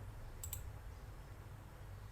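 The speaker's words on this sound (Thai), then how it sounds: "ใช้เมาส์เลือกวิดีโอ ตัวที่เราต้องการ" A computer mouse gives a quick pair of faint clicks near the start while a video is selected in Sony Vegas editing software, over a quiet steady low hum.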